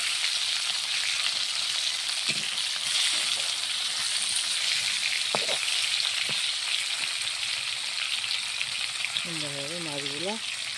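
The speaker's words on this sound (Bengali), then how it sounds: "মাছগুলো সুন্দরভাবে ভাজা হয়ে গেছে" Fresh fish frying in a pan, a steady broadband sizzle running throughout at close range, with a few faint clinks from turning the pieces and a brief voice-like tone near the end.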